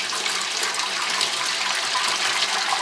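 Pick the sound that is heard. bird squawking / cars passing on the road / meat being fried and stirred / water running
water running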